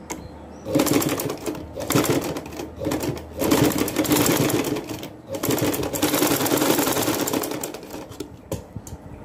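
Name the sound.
sewing machine stitching a baby frock seam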